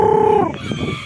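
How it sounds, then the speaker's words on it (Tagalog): A loud, nasal peacock call rings out close by, a sustained honking wail that breaks off, followed by softer rustling noise, in Ilocos Sur. "Mga pabo. Peacock, peacock."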